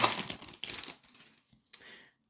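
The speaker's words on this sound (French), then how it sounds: "Les boosters collector qui sont toujours très durs à ouvrir." Wrapper of a Magic: The Gathering collector booster pack from a Dominaria collector box being torn open, with crinkly crackling bursts at the start and a short final rip, close and fairly quiet, with no voices.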